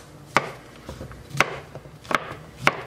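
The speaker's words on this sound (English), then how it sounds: "So a little rough chop." A chef's knife rough-chopping baby bella mushrooms on a cutting board, four sharp, distinct knife strikes at an uneven pace, close and clear with a few softer taps between, no talking.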